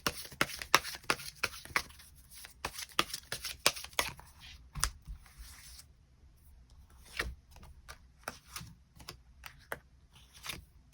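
Tarot cards are shuffled and drawn with rapid crisp flicks and snaps, dense bursts that break into scattered clicks after a brief pause. The sounds are close and sharp, and no one speaks.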